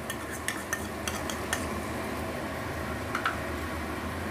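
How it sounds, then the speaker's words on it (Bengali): A paste of onion, garlic, ginger and green chili fries in a pan with a steady low sizzle, while a spatula stirs it with repeated close scrapes and light metallic clinks. "এবার এগুলোকে একটু ভালো করে আমি একটু ভেজে নেব।"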